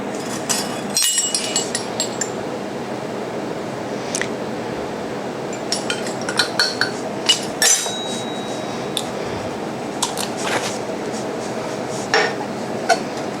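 Spoon clinking against a bowl while bread pudding batter with almond extract is stirred, with a steady run of light metallic taps and scrapes close by, no talking.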